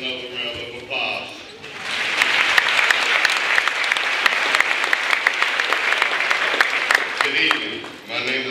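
Applause from the audience at the College of Marin 2016 commencement: a voice speaks briefly at the start, then dense, loud clapping from a large crowd fills about five seconds before fading as speech resumes.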